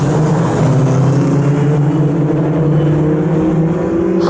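Historic Formula Ford race cars at full throttle at Snetterton circuit, a loud continuous engine howl with rising pitch as the cars pass close by, no talk.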